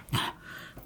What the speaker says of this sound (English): I've just got to let the dog out.